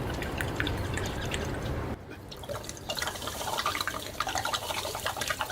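Water gushing out of a spun plastic bottle in a simple science experiment, a continuous splashing, gurgling pour close up, with a brief lull near the start, no voices.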